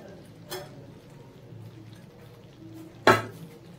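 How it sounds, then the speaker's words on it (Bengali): Fried paneer is stirred into a masala in a pan, with two distinct metallic clinks of a spoon against the pan over a soft, low background of frying. "পনিরটা দিয়ে মিশিয়ে নিচ্ছি।"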